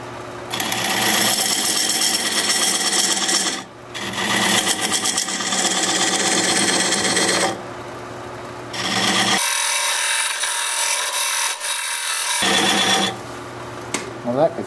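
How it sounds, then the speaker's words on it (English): Diamond point tool squaring the sides of an oak burl tenon on a wood lathe: loud, steady scraping and cutting in several long passes separated by brief pauses, with no talk. "Now I'm going to use this diamond point tool"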